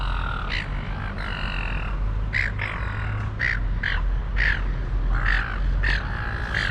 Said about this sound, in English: That's a big seagull.